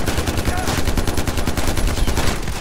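Rapid automatic gunfire in the video game Far Cry 4, a dense, loud stream of evenly spaced shots running for the whole stretch without a break.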